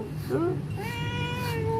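A cat meowing close by, giving a short chirp and then a longer, drawn-out meow over a low background murmur.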